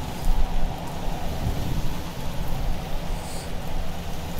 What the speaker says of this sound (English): The acid rain is ruining the rocket